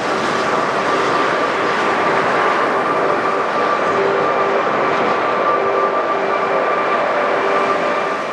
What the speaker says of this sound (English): This Airbus had barely gotten off the ground when it got slammed by London's infamous winds.